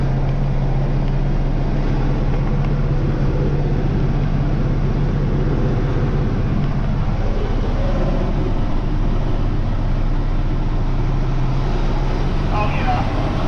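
A line of cars idles and rolls past in steady traffic after school buses let out, a continuous broadband road rumble with engine hum, fairly close and unbroken throughout, with no clear talk over it.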